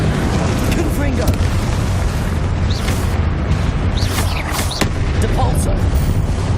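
Repeated Confringo fire-blast spell explosions in Hogwarts Legacy, booming bursts layered over a dense, continuous roar of game combat effects, with faint voices mixed in throughout.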